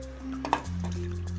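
A large chopped tomato lands in hot mustard oil with a short clink of utensil against pan, then sizzles quietly under a low steady hum.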